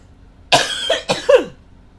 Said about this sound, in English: there goes my coughing